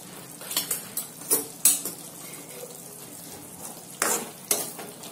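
A spoon stirs chana masala (chickpea curry) in a pan with a series of scraping, clinking strokes over a soft, steady sizzle, close and fairly loud.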